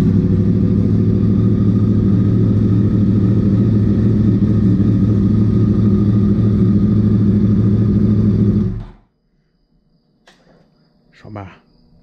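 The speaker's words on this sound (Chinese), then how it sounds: "听听这个十字曲轴引擎的声浪" A motorcycle engine with a cross-plane crankshaft runs loud and close at night with a rough, steady roar for about nine seconds, then cuts off into near silence broken by a brief faint noise.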